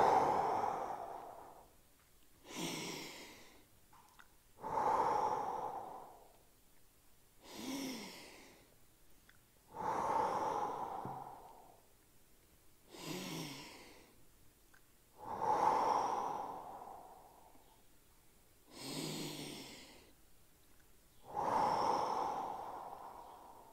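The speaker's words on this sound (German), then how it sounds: "5-mal atmen." Slow, deep breaths during a forward-bending knee stretch, about eight audible inhale-exhale cycles with sighing exhales and sharp nasal intakes, close and fairly quiet, steady and evenly paced.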